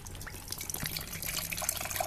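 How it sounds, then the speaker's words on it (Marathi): Coconut water pours out of a fallen coconut in a short, close, continuous trickle and splash into a plate or vessel. "नारळातून पाणी काढणार"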